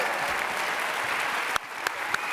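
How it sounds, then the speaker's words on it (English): Dense audience applause at a live talk event, a steady wash of clapping with a few sharper individual claps standing out near the end. "Hey, big round of applause here to Guy Russ"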